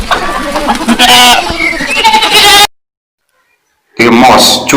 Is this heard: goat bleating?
yes